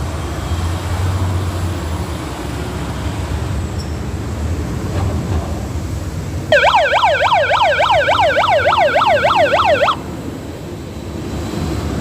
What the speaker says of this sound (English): We hear sirens all the time.